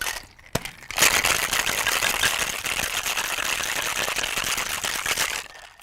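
A cocktail shaker holding a drink with creamer is shaken hard for about five seconds after a couple of sharp clicks, giving a dense, steady rattling and sloshing close up, then it stops.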